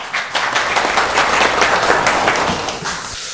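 Audience applause fills a seminar hall at a policy forum on metropolitan regulation, a dense, steady wash of many hands clapping that swells and holds for a few seconds before easing off.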